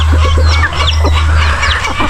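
A crowd of farmyard chickens clucks loudly and close by with a rooster among them, a busy overlapping chatter of short clucks over a steady low hum, with no talking.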